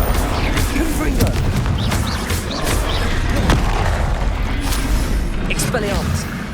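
Confringo blast spell explosions in Hogwarts Legacy: several booming impacts and crackling bursts over dense, continuous combat noise with whooshing effects, loud and close.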